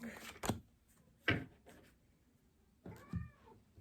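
A cat meows a few times in short, separate calls, with the last one rising and bending in pitch; quiet room background between calls.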